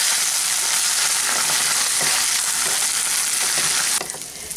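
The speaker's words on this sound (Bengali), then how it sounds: "চালটাকে আমি একটু হালকা করে ভেজে নেব।" Drained rice lightly frying in a pan gives a loud, steady sizzle with crackling and stirring scrapes close by, then eases slightly near the end.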